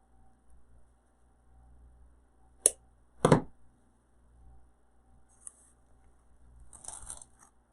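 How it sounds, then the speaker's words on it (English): Scissors snip through a rose stem to shorten it for a wreath, giving two sharp, close cutting clicks in an otherwise quiet space, then faint rustling. "Let me go ahead and cut this one a little bit shorter."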